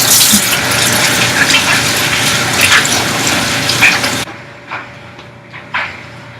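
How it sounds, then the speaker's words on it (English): Water from a kitchen faucet gushes loudly and steadily while hands are washed, then cuts off abruptly, leaving a few soft drips and clunks. "So I'm going to wash my hands real quick."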